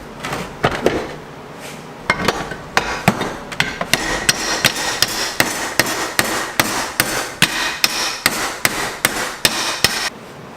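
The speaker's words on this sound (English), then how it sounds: "I think I have a smaller ball peen hammer." Steady metallic ball peen hammer blows ring out on a Mustang's metal, about twenty sharp strikes at an even rhythm after a few irregular taps, close and loud with no talking.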